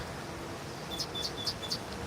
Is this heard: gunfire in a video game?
no